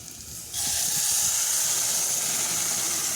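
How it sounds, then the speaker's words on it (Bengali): Boiled chana dal poured into hot fried masala sets off a sudden loud hiss of steam and sizzle that jumps up after a quieter start and then holds steady and close. "এখন বুটের ডাল দিয়ে দেব।"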